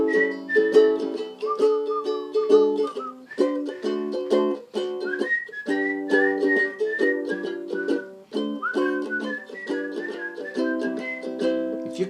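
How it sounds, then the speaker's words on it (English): A person whistles a melodic tune up close, clear sustained notes with slides between pitches, over soft accompanying ukulele chords. "you can whistle for a while"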